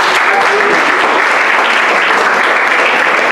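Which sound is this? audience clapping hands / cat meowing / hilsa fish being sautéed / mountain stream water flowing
audience clapping hands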